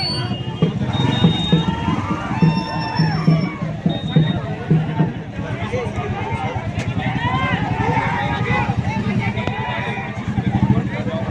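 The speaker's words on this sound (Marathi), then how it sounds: "मतमोजणी कार्यालयाच्या बाहेरच आपला जल्लोष साजरा केला व रॅली काढली।" Supporters of a newly elected councillor hold a noisy victory rally outside the vote-counting office, with steady crowd hubbub, cheering and shouts throughout and a voice speaking over the din.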